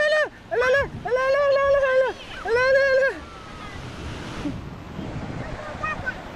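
Sea waves surge and wash onto a summer beach in Baler, a broad rushing swell in the second half of the clip, preceded by a child's excited shrieks and adults talking nearby.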